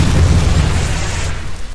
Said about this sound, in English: I'm going to go for a nice explosion sound so you can hear it properly.